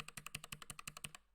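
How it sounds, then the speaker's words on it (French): Typing on the mechanical keyboard of a Raspberry Pi 500+, a quick, even run of about a dozen crisp clacky keystrokes, close and clear, then it stops. "petit clavier mécanique impeccable"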